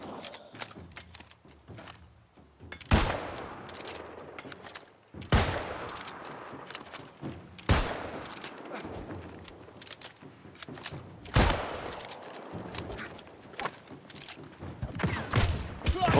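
Video game gunfire: bursts of rapid shots erupt every few seconds between quieter stretches of game sound, fairly loud and close.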